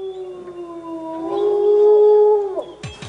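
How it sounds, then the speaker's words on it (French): Wolves howl on a winter night near midnight, with one long, rising and sustained howl, a second voice layered faintly, and a sharp cutoff at the end. "j'ai entendu des loups hurler"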